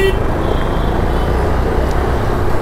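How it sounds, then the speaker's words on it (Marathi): City road traffic in Ratnagiri rumbles past in a steady, loud wash of engine noise, with a brief horn toot near the start. "ट्रॅफिक बघा काय."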